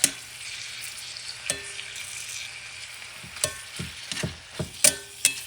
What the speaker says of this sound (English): what I'm doing with this beef, I'm cooking it.